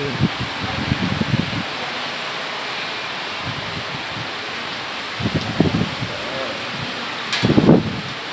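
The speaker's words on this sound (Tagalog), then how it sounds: "Yan po ang ulan." Steady heavy rain from a typhoon hisses throughout, a dense wash of noise, with occasional voices and rustling bumps breaking through now and then.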